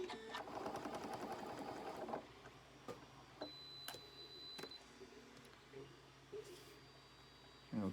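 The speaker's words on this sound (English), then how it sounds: "I'm going to put my needle down and I'm going to sew along that diagonal line." A home sewing machine stitches a diagonal line along a quilt binding, a steady mechanical whir at close range for about two seconds, then stops, leaving scattered clicks and faint ticks.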